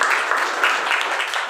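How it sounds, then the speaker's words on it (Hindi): A short burst of audience applause at a community gathering, dense steady clapping with no pauses, loud and close. "उनके लिए जोरदार तालियां।"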